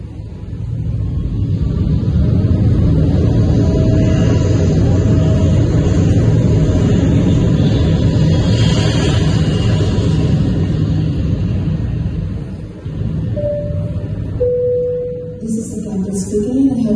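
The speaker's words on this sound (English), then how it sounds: "Cabin crews prepare for takeoff." Steady loud airliner engine roar fills a plane cabin during takeoff, a dense continuous rumble that eases slightly near the end, with a few faint chimes or tones.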